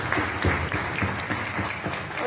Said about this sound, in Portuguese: uma salva de palmas aos nossos mais velhos.